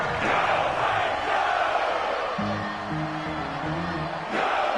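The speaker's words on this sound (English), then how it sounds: "And the crowd getting into it as we come up on a big third down." A stadium crowd in a football video game roars steadily ahead of a big third down, a dense wash of cheering with a short horn-like musical swell in the middle, loud and continuous.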